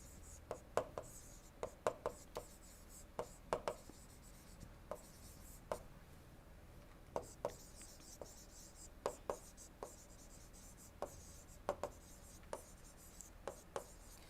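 A pen or marker writing during an engineering lecture, a steady run of short, quiet scratching strokes in an irregular rhythm, heard close and alone in a hushed room.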